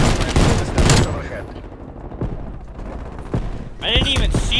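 Hand cannon fire in Call of Duty, loud heavy shots in quick succession up close, with game voices and a player talking between the bursts.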